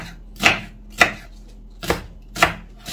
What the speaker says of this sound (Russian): Далее быстренько нарезаю лук, просто кубиком